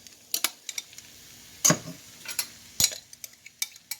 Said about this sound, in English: Now I'm going to add my quinoa.